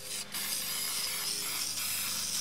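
An acrylic spray can lays a thick finishing coat over stamped tiles, producing a close, continuous hiss that runs steadily with only a brief dip near the start.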